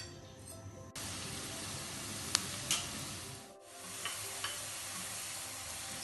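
Finely chopped onions frying in a pan for a fried brinjal curd curry, a steady loud sizzle starting abruptly and continuing with a few clinks of a utensil and a brief dip midway.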